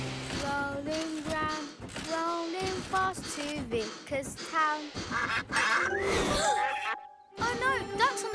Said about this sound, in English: Oh no, ducks on the track.